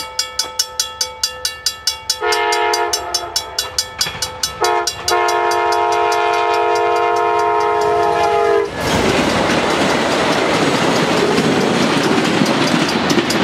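VIA Rail train 78, led by P42 locomotive 916, approaches at Paris West, sounding a series of loud rhythmic horn blasts before roaring past close by with a heavy, steady rumble of rolling cars.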